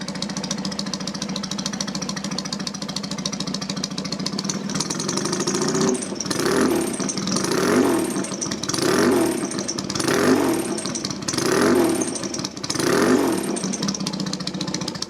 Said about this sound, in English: And from cold she'll tick over.